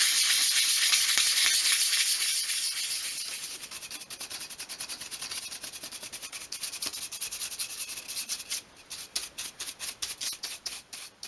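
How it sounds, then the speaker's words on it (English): A small wooden piece for a 1/12th scale miniature garden shed is sanded by hand, giving close, steady scratchy rubbing that breaks into quicker rhythmic back-and-forth strokes toward the end. "just finish off with a complete sand over the whole piece."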